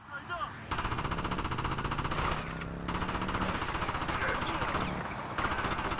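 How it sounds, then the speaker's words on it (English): Machine gun fire in the video game GTA Liberty City Stories, long dense bursts of rapid, loud automatic shots with brief pauses between them. "Sound of the gun is very satisfying."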